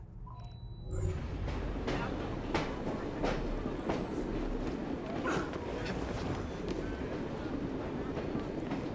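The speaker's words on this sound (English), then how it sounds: "Do you think the train's going in the direction that I want to go?" A train rolls past in Assassin's Creed Syndicate, a steady close rumble with rhythmic clacking of wheels on rails that runs throughout, heavy low end with faint higher clatter.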